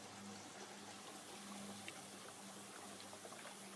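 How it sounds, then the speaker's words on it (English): Water trickles and sloshes steadily in a bucket as dirt is rinsed off lettuce roots, a faint, continuous wash with a low hum beneath. "I take it over to a bucket and just rinse off all of the dirt that I can off the roots"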